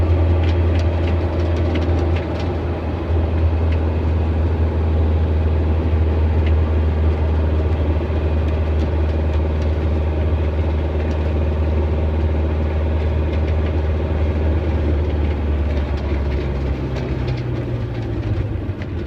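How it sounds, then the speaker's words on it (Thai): A constant low engine rumble with steady road or rail noise, loud and unbroken throughout, no voices. "อย่าไกลเสียงเครื่องยนต์เลยเด้อจ้ะ"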